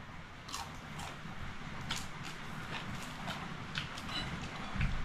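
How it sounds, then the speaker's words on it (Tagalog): Close crunchy bites into crispy fried food, a few sharp crackling bursts spread over several seconds against a steady noisy background, with no talking. "Meron tayong malutong ang pinirito."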